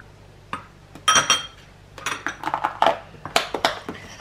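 Ceramic dishes and a bowl clink and knock together in a kitchen as burger seasonings are readied, a few close, sharp clatters in short irregular bursts with no talking.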